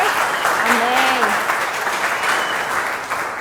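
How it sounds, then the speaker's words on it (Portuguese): A church congregation claps in sustained applause during a worship service, dense hand clapping with a voice briefly calling out over it. "Dá uma salva de palmas aí para o Senhor"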